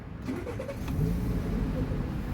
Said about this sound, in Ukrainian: Зараз заведу ще автомобіль вам. Заводиться автомобіль